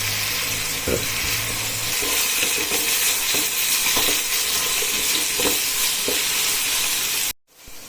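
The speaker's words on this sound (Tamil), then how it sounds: "அது வரைக்கும் நல்லா நம்ம டைம் கொடுத்து வதக்கணும்." Mutton biryani masala is sautéed in a pan with a steady sizzle and hiss. A utensil scrapes and stirs at irregular intervals, and the sound cuts off abruptly near the end.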